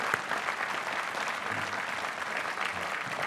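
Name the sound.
applause for parents and families at a commencement ceremony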